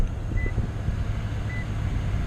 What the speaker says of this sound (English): you see the beeping there because the car is running without the key being in the car